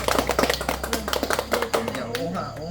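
Several people clap hands in quick, uneven bursts at an outdoor Vietnamese gathering with rice wine drunk from jars, the sharp claps mixed with chatter and talk for a few seconds before fading.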